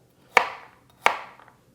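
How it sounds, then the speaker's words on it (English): Two sharp knife chops on a cutting board, a rough chop of garlic and other ingredients for a Burmese chicken curry, spaced about two-thirds of a second apart, close and crisp with short ringing decay. "we're just going to continue giving everything a rough chop before it goes into a food processor"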